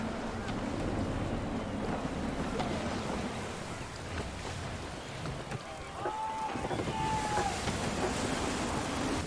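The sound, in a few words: gusty wind at sea in Assassin's Creed 3 (video game)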